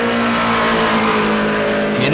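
A four-cylinder mod mini race car roars loudly and continuously as it comes loose off a corner during qualifying at New Smyrna, with a commentator talking over the engine.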